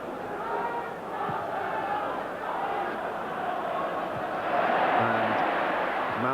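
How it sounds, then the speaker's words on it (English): A football crowd at Everton versus Chelsea in the 1985–86 First Division, a broad roar and chatter from the stands that swells toward the end, steady and moderately distant. "Mountfield getting a special cheer for climbing above Dixon."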